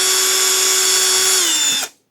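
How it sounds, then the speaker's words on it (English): A power drill running a 3 mm bit steadily through an RC crawler part, with a loud, even whine that dips slightly just before it stops abruptly, with no talking. "This is a 3 millimeter drill bit and we're going to open this to 3 millimeters."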